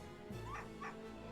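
A dog in the video game Professor Layton vs Phoenix Wright gives two short, yippy barks with a slight whimpering edge, close and fairly quiet over a soft game background.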